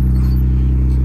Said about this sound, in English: Just gonna start the video with a cold start.